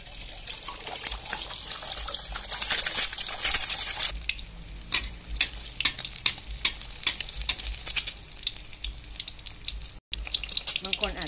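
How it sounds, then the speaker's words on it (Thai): Eggs frying in hot oil in a pan for fried eggs, a steady crackling sizzle with scattered sharp pops and spatter, close by and moderately loud, with some running water mixed in. "เราจะทำไข่ดาวก่อนนะคะใส่น้ำมันลงไปแล้ว"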